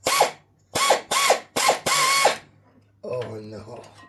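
A ratchet clicks out in four quick bursts followed by one longer run, loud and close, then a few faint whirring, squeaky sounds that could be the same mechanism.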